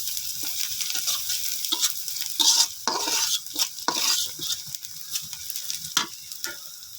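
Pieces fry in a pan with a continuous sizzle while a utensil stirs them, giving repeated sharp clinks and scrapes against the metal in an irregular rhythm, close and fairly loud, with no talking.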